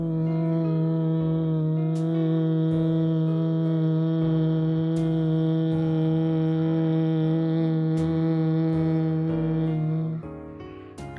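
A steady, loud hum carries on alone for about ten seconds as one long, slow humming exhale in bee breath (Bhramari) yoga breathing, then fades at the end.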